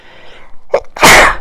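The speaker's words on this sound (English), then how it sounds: "I'm going to sneeze." A woman gives one close, loud sneeze, a short sharp intake followed by an explosive burst of breath, alone and without other sound.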